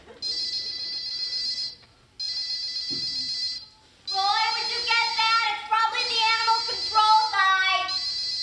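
Telephone ringtone in a house, a loud electronic melodic ring repeating in bursts with short pauses between, later layered with a more complex chiming pattern, close and clear with no talk over it.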